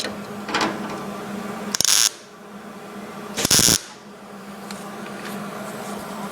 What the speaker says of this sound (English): I'm going to weld up a couple so you can see.